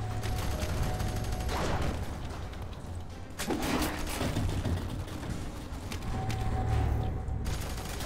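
Gunfire in the shooter F.E.A.R. 3: bursts of weapon fire mixed with mechanical clacks and rattles, loud and close, coming in clusters over a steady background.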